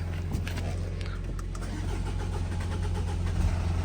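A Jaguar Land Rover engine with an unplugged camshaft position sensor and a rattling timing chain cranks through a long delay before catching and settling into a steady idle, close and loud, with brief talk over it.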